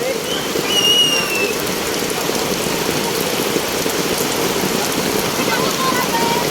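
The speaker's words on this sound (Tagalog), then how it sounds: "Masaya sila nangaligo dito sa ulan mga idol." Steady heavy downpour on a flooded street on Republic Avenue, Quezon City, a loud unbroken patter and hiss, with faint distant voices and a brief high call mixed in.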